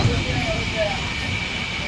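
A Sealdah–Balurghat train rolls past a stationary passenger train at Old Malda station, making a steady, loud broadband rumble and hiss that holds evenly throughout.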